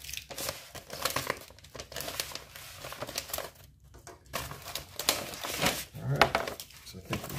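A thick priority mail envelope is torn and crinkled open with repeated rustling, ripping strokes close up, and a person speaks quietly in between.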